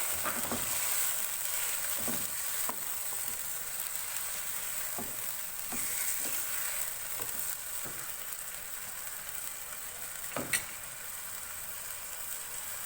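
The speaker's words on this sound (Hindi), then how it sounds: "अब मैं इसमें हरी मिर्च और हरा धनिया का जो हमने पेस्ट बनाया था वो डालेंगे।" Green chili and coriander paste frying with chicken in a pan over high flame, a steady loud sizzle throughout with occasional soft stirring taps and a brief sharper clatter near the end; no one speaks.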